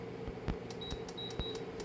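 A kitchen timer being set for ten minutes while noodles boil, a series of short electronic beeps and clicks at an irregular pace, fairly quiet against a low background hum.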